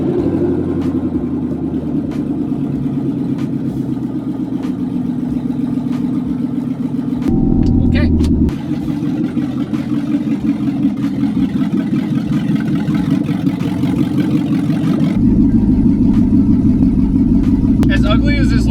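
A car with a newly installed shift knob being driven, its engine droning steadily with a few shifts in pitch as it accelerates, loud and close, with someone talking over it much of the time.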